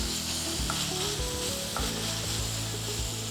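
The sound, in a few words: pepper and chili flakes sizzling in a pan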